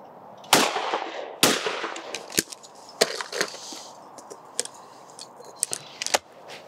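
Blaser F16 shotgun fired at clay targets, a looper and an incoming simultaneous pair: two sharp, loud blasts a second apart, then smaller clicks, clatters and knocks from handling the gun outdoors.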